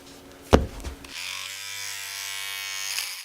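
A steady electric shaver buzz, close and continuous after a sharp knock, humming evenly with a bright rasping edge for several seconds.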